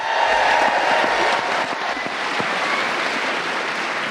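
A live crowd at a Chicago podcast taping cheers and applauds, a continuous, roaring mix of clapping and hollering that stays full and fairly loud throughout, with scattered sharper claps poking through.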